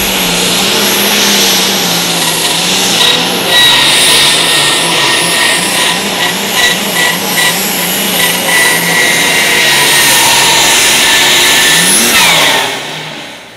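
A loud light super stock pulling tractor engine roars continuously under heavy strain at a tractor pull, revving and surging in pitch for several seconds before easing off at the end.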